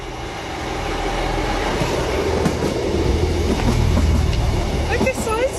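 A passing train builds into a loud, steady rumble with some clattering, and a voice speaks briefly near the end over the noise.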